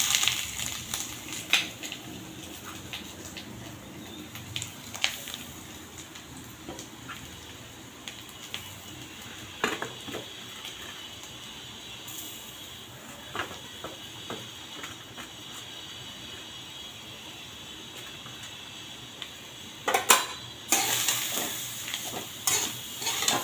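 Grated coconut is added little by little to hot ghee in a heated kadhai and stirred, producing a quiet, continuous sizzle with intermittent scrapes and clinks of the spoon against the pan.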